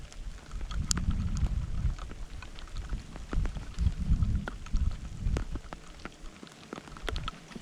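Steady rain patters throughout with scattered droplet hits, alongside low rumbling and rustling close by while pasta cooks outdoors on a camp stove; nobody speaks.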